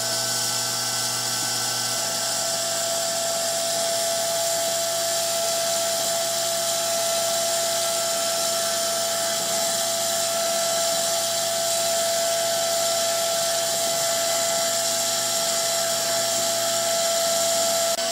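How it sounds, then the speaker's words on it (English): A machine cutter carves a sign into wax with a steady, high-pitched whirring whine that holds an even level throughout, close and continuous, with no talking. "we're going to cut a sign in the wax on the side A"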